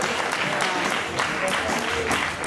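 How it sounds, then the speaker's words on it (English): A crowd at a three-on-three breakdance battle semi-final claps in a loud, sustained burst, with some voices and cheers mixed into the applause. "can you give them a round of applause?"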